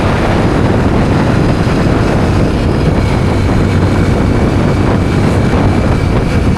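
A motorcycle with highway tyres cruising along a highway, heard as a loud, unbroken roar of wind buffeting and engine noise from start to finish.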